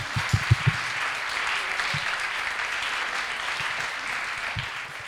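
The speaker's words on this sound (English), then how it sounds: "Round of applause." Steady applause from an audience at a dance talk, an even rush of many clapping hands, with a few low thumps near the start and scattered later.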